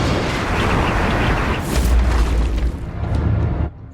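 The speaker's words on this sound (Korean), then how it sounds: "그때 폭발이 일어나고" A massive, deep explosion in a monster movie trailer rumbles loudly as a sustained roaring boom for several seconds, then cuts off abruptly.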